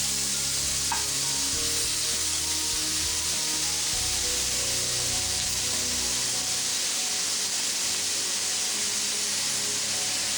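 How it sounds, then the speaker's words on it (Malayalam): Chopped onion sautéing in hot oil in a pan, a steady close sizzle and hiss throughout with occasional stirring scrapes. "ഇതിലേക്ക് ചോപ്പ് ചെയ്ത സവാള ഇട്ട് കൊടുക്കാം"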